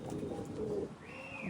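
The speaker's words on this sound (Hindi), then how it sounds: "अभी कबूतर छोड़ के दिखा रहा हूँ" Low pigeon cooing from a released pair, soft and steady against a noisy background, with no one speaking.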